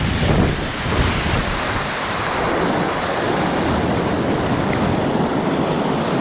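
River rapids rush beneath a kayak on Long Creek, a loud, continuous churning wash of water with gusty wind buffeting the microphone and no voices.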